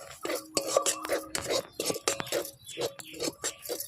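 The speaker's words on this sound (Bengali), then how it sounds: "এবারে এটাকে আমি নাড়তে দেবো" A spoon stirring curry leaf kachori filling with garam masala in a pan, giving a quick run of close metallic clinks and scrapes against the pan's sides, with no speech.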